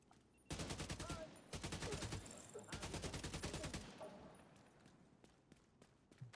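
AK rifle gunfire in a first-person shooter game, heard as two long rapid bursts of loud automatic fire separated by a short pause, then a few faint scattered shots and footsteps.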